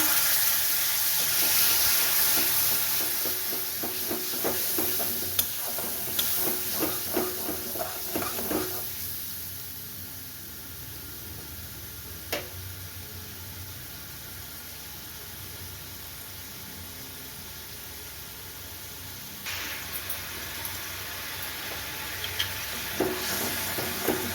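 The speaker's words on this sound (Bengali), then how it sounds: "টক ভেজা দিয়ে মিনিটখানে ভালো করে নাড়াচাড়া করলাম" Pointed gourd curry with whisked sour yogurt is stirred in a pan, giving a steady scraping and soft sizzling that is busier in the first half and then settles into a quieter simmer with occasional clinks.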